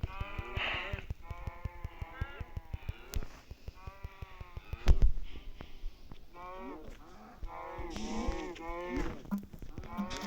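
Cows in a Minecraft-style video game give repeated bleating, mooing calls, several overlapping animal voices in quick succession with a clicking rhythm beneath and one loud thump midway.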